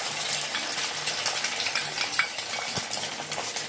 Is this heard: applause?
no